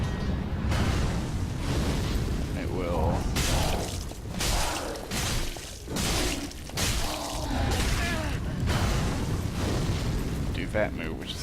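Fiery eruptions burst up beneath the player during a Dark Souls III boss fight in Irithyll of the Boreal Valley, a series of loud roaring booms and whooshes over a steady rumble, with someone talking throughout.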